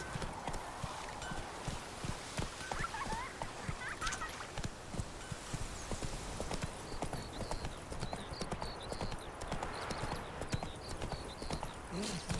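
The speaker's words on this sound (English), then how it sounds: "Giddy up. Run, Roach" Close, steady clip-clop of horse hooves as a horse is ridden in The Witcher 3: Wild Hunt, a rapid rhythmic gait with game ambience and faint voices underneath.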